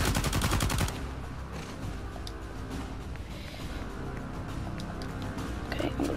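Dense gunfire rattles through a firefight in the video game Uncharted 4, a heavy opening burst followed by steady, loud, continuous shooting and blasts with no break.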